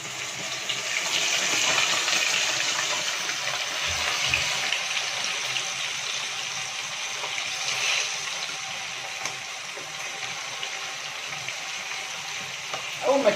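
Catfish pieces are added to hot oil and fry with a steady, broad hiss and crackle that holds close and fairly loud throughout, with faint speech in the background.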